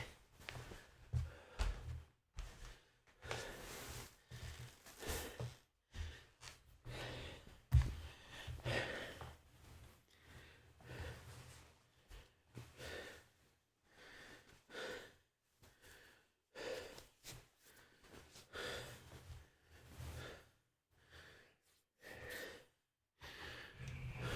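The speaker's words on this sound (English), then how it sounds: "Please excuse my heavy breathing." Heavy breathing close to a microphone during a livestreamed meditation session: faint, uneven breaths, gasps and sighs that come and go in bursts separated by quiet gaps.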